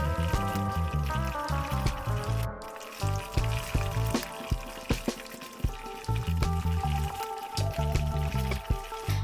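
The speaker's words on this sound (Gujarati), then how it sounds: "અડધો ગ્લાસ પાણી એડ કરી લઈશું" Half a glass of water pours into a pan of Manchurian sauce made with soy sauce, ketchup, tomato sauce and vinegar, a close splashing and bubbling against clattering kitchen sounds.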